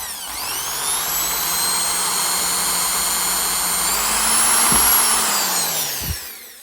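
A power drill whines steadily at high speed for several seconds, drilling a hole in an OO gauge model locomotive, its pitch dipping slightly partway through before winding down with a brief knock.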